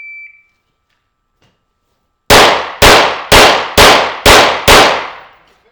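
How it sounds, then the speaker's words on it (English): A short electronic timer beep opens a backup-gun handgun match stage. After a pause, six sharp, loud pistol shots follow at a fast, even pace, each decaying quickly. "It was 5 rounds at 5 yards, testing your draw, testing your recoil control."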